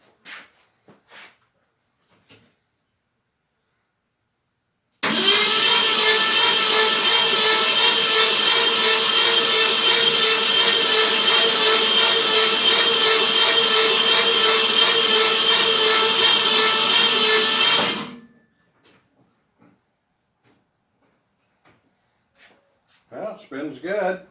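The engine of a 1990 Saxon classic roadster kit car cranks over without catching. A loud, steady, rhythmic churning runs for about thirteen seconds and then stops abruptly, with only faint knocks and movement before and after.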